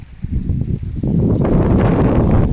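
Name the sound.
wind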